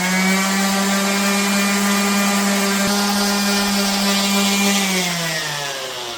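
A palm router rounds over the edges of a wooden cloud-shaped shelf, a steady loud high-pitched whine running continuously before winding down at the end.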